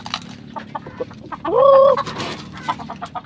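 Several chickens cluck and murmur nearby, with one louder drawn-out squawk in the middle amid scattered short clucks.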